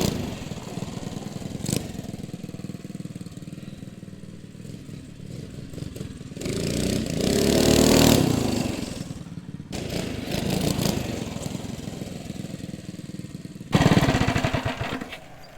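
A mini bike engine fitted with a huge cam runs very rich nearby, its loud, rough, clattering exhaust note swelling and dropping as the throttle is blipped.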